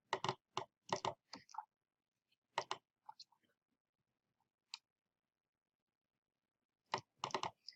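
Sharp computer mouse clicks in close pairs and small bursts, quick double-clicks separated by quiet gaps, close and fairly crisp with no voices.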